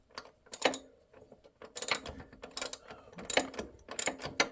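A hand ratchet removes a bolt on a Raptor 700 ATV, giving several close bursts of sharp pawl clicks in a repeating stroke rhythm, with quiet gaps between swings.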